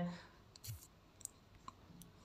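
Faint, quick mouse clicks while confirming a crypto transfer, a few isolated sharp ticks spaced apart against a quiet room background with no talk over them.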